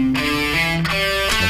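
Distorted electric guitar plays a quick triplet lick in a rock style, sustained notes stepping from one string set to the next, loud and close with no speech.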